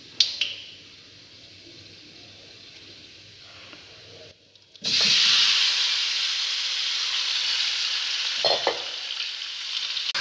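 Chicken sizzles loudly in hot oil in a pan for a steamed chicken dish, a quieter stir at first, then a sudden strong, steady frying hiss that carries on to the end with a brief clatter near the close.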